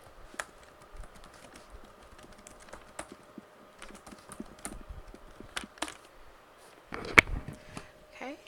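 A password is typed on a computer keyboard, a sparse run of quiet close key taps with irregular pauses and a louder cluster of clicks near the end, with no speech.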